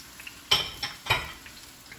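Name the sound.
onions and garlic added to steak stir fry in pan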